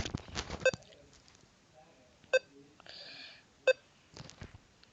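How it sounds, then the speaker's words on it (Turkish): Short electronic beeps from the Chrome Dino T-Rex browser game, three sharp isolated bleeps spaced about a second and a half apart over a quiet background. "Açtığında sesi geliyormuş oyunun kendi sesi."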